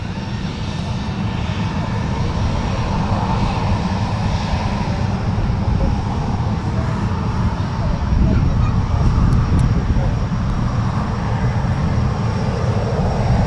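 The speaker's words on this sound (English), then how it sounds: "this will be the EasyJet from Alicante" An EasyJet airliner arriving from Alicante at Manchester Airport roars steadily and loudly throughout, a broad continuous jet rumble that swells slightly near the end, heard alone without talk.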